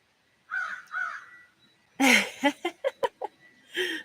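Crows caw outdoors: two hoarse calls, then a louder burst followed by a quick run of short rasping caws and a final drawn-out call, fairly close and clear.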